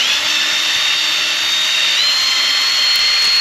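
A car headlight is wet sanded with 3000 grit paper, likely using a power tool, giving a steady, loud, close whirring hiss with a thin high whine that rises slightly in pitch near the middle.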